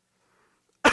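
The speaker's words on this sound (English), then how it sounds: "Excuse me for my cough." Near silence, then one sharp, close cough bursts out right at the end.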